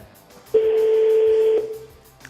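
A single steady telephone tone, likely a ringback, sounds loud and clear for about a second during a French radio host's call to the UNESCO press service, then cuts off to quiet.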